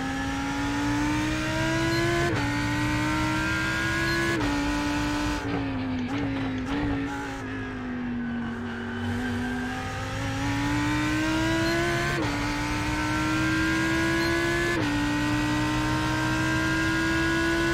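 Lamborghini Huracan EVO GTE race car at Daytona in a video game, engine droning loud and steady with rising and falling pitch as it shifts through gears, no talk.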